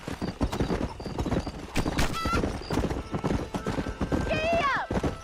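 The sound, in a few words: horse galloping in video game Red Dead Redemption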